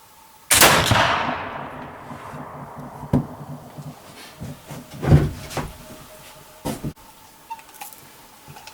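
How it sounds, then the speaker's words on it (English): A Kibler Woodsrunner muzzleloading rifle fires an 80-grain charge: one loud, sharp gunshot near the start with a long decaying tail, then scattered quieter thumps and rustles of handling. "Shot number 2, 80 grains."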